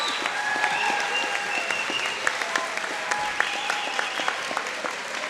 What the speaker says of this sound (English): And we applaud your outstanding efforts.